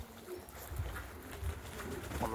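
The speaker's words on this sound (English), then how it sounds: "Got a couple of tipplers here that we bred ourselves" Bred tippler pigeons coo softly on a veranda, low murmuring calls repeating at a moderate distance over a faint outdoor background.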